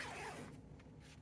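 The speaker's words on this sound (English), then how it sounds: "now you are going to zip up your zipper" An invisible zipper sewn into a garment is pulled up, giving a soft, faint scraping slide in the first half second that fades into quiet room noise.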